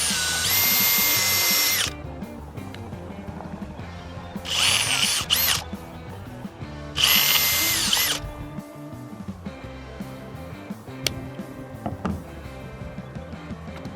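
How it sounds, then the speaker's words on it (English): A power drill drilling into plastic whines in three loud high-pitched bursts, each a second or two long, with quieter mechanical clatter and rustling between them. "I'm just going to drill into this plastic."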